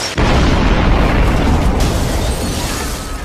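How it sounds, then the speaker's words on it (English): A grenade blast in the action film Punisher: War Zone, a sudden loud explosion that erupts into a thick roaring boom and rumbles on, slowly fading over a few seconds. "Surprise! Super grenade!"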